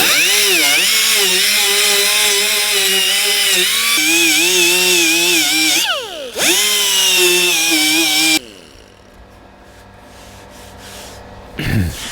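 Power sander grinding into polyester filler on a cracked Lotus Elise clamshell, a loud whining motor with pitch dips under load, then it winds down and the space goes quieter.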